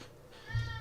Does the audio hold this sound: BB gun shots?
no